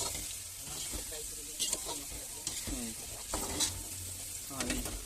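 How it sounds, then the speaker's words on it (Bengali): Potatoes frying in oil with salt, turmeric and cumin seeds, a steady close sizzle with scraping stirring strokes, while a voice talks over it. "নুন হলুদ জিরে ফোড়ন দিয়েছে তেলের মধ্যে সে তার মধ্যে আলুটা ফ্রাই করে নিচ্ছি"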